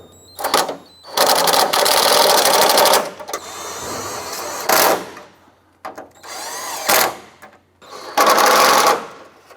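A power tool buzzes in repeated bursts while snugging a bolt on a 2006-2013 Chevrolet Impala bumper shock absorber, with loud, close whirring spurts separated by brief pauses.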